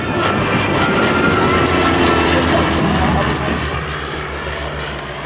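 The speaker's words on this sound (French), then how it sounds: "Donc on ne peut pas dire que ce sont des avions qui sont bruyants." Aerobatic airplanes at Sarlat Domme aerodrome pass overhead, a loud continuous engine drone swelling and then fading away, with a voice talking over it.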